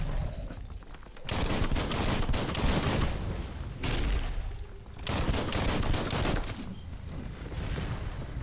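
Sustained bursts of rapid gunfire in the Biomutant video game come in three long loud volleys separated by brief pauses, dense and close with no voices over them.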